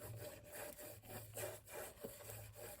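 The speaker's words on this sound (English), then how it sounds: "So I can now go in and burnish that down." A hinged double box, made as two boxes hinged together, being burnished down, quiet rhythmic rubbing strokes repeated about every half second, close and soft.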